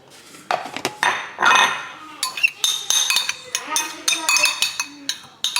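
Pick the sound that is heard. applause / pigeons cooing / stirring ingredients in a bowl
stirring ingredients in a bowl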